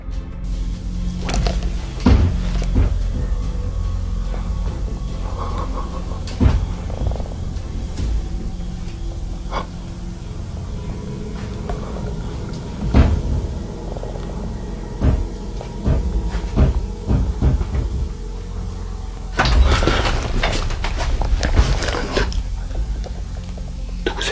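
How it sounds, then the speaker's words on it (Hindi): A door swings open on its own, giving off creaks, knocks and wooden thuds scattered over a low background rumble, with a louder burst of rattling near the end. "यकदम से दरवाज़ा खुद ब खुद खुलता है"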